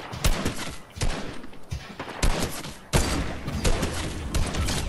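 Dense gunfire in a shooting video game with a sniper rifle in play, a steady run of sharp, loud cracks and booms packed closely together, some overlapping, near and forceful throughout.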